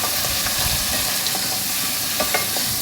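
Goat mutton fries in hot oil for a bhuna with radish, a dense close sizzle with bursts of crackle and stirring scrapes that runs continuously and loud with no voices.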